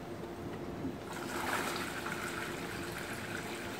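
Liquid chlorine poured by hand into pool water outdoors, a steady broadband splashing and trickling pour that swells slightly midway and runs continuously, close and fairly loud, with no talk.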